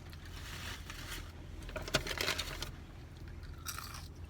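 Close crunching and chewing of fresh, salty Burger King fries, with irregular bites and crisp snaps rising to a louder cluster midway, then softer chewing. No speech.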